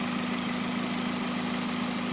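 A car engine fitted with a newly installed Mechman alternator idles steadily, a constant low hum with a strong droning tone and faint vibration running throughout, no voices present.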